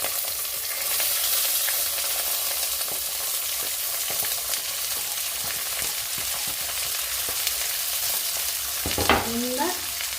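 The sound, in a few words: stirring and frying lentils in a hot iron pan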